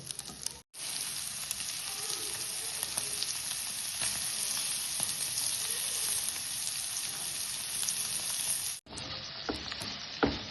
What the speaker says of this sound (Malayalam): അതിലേക്ക് പനീർ ഇട്ട് കൊടുക്കുക. ഇത് വെറുതെ ഒന്ന് ഫ്രൈ ചെയ്തിട്ടാൽ മതി.